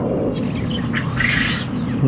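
Farm-raised quails give a few short, chirping calls over a steady background hiss, faint and spaced out across the moment.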